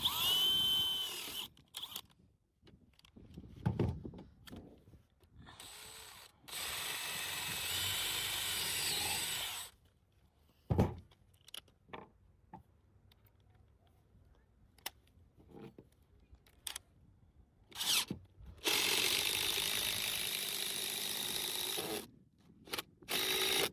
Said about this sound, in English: I want to countersink it with a bit larger than the head